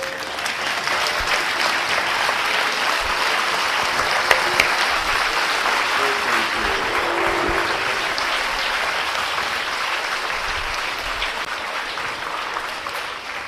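Large audience applauding steadily and loudly without pause, a dense continuous wash of clapping from a big hall crowd at a talk on young Indians.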